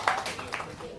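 A live audience claps for two guests at a comedy talk show, a brief burst of scattered, moderately loud applause.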